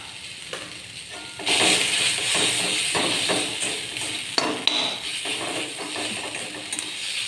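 Ginger garlic paste fries with browned onions in a pan while a potato and pea curry is being cooked. A steady sizzle runs throughout, with scraping stirring strokes and a couple of sharp clinks of a utensil.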